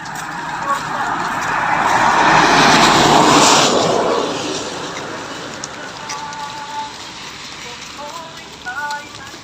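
Heavy storm rain hisses steadily, swelling louder midway through, with faint voices underneath.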